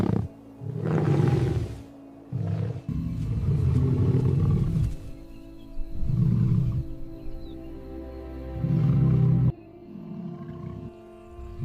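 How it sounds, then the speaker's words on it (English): Lion roaring in the African wild, a series of deep, loud, drawn-out roars in several bursts with short pauses between them, close and dominant over a low rumbling background. "Their roar echoes across the plains, a sound of dominance and warning."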